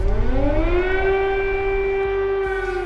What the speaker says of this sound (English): Air raid sirens have become a daily routine.